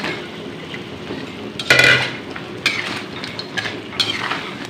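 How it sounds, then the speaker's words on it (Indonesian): Lobster is stirred into boiling seasoning in a pan, with a utensil clattering and scraping against the metal over a low bubbling simmer. A loud clank comes partway through, followed by several lighter clinks. "Oke, ini bumbunya udah mendidih, saya masukin lobsternya."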